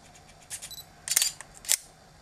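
Canon Rebel T3i DSLR shutter fires several times in quick succession, crisp close mechanical clicks in a quiet room with no talking.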